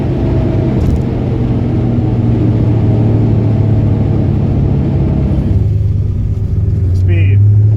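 A car at sustained top speed on a runway, steady loud engine and road rumble with a constant low drone that shifts slightly near the end, close and continuous under faint speech.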